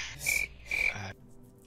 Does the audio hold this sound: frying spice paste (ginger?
no